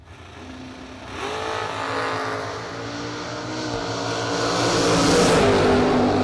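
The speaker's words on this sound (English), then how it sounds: "Turned into a pretty good drag race at the end." Two drag race cars, a G-body among them, accelerate hard down the strip at a bracket race, their engines rising in a loud, sustained roar that climbs in pitch as they pull away.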